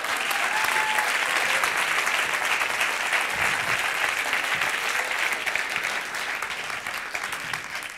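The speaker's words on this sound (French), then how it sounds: "Je vous demande un tonnerre d'applaudissements pour mon père qui est dans la salle" Thunderous, sustained applause from a comedy show audience honoring the comedian's father seated in the hall, dense and even, tapering slightly near the end.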